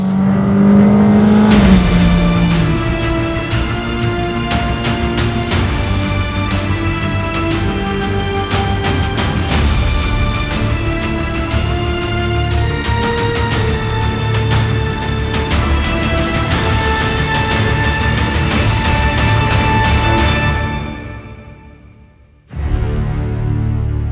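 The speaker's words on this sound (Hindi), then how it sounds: "स्पोर्ट मोड में इसको रखते हैं और हम शुरू करने वाले हैं इस गाड़ी को। और ये मैंने दिया फुल थ्रॉटल" A Kia car with a 2.0-litre petrol engine in sport mode is revved at full throttle. A loud, sustained engine note with shifting harmonics holds for about twenty seconds, then fades sharply near the end before a brief return.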